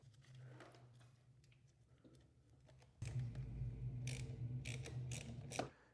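Tightening a 10 mm nylon lock nut on a Rizoma lever fitted to a 2025 Ducati Panigale V4, quiet close ratchet clicks and metallic turning, growing louder and busier halfway through.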